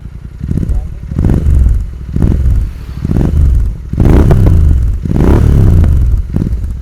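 A modified Royal Enfield Continental GT 650 with an aftermarket exhaust revs in repeated deep, loud throttle blips close by, each swelling and falling back to a rumbling idle.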